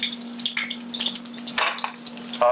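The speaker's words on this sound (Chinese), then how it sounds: "先把我们的蒜头先下来爆一下 下来爆一下，然后呢蒜头把它炒香炒一下" Garlic sizzles and crackles in a hot wok as it is stir-fried, with metal spatula scrapes and clinks against the pan over a steady low hum from the stove.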